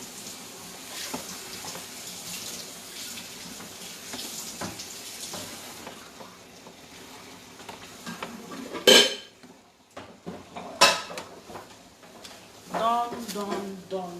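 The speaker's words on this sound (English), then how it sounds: "So I'm going to stir it and it's all done." A utensil stirs boiled baby vegetables in a pot, with clinks and scrapes against the metal that grow louder and sharper toward the end, alongside some kitchen background noise.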